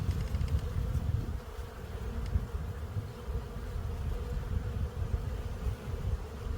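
Honey bees from an open hive in spring, frames of brood lifted out, make a steady, dense buzzing swarm close by, droning continuously without pause and with no voices present.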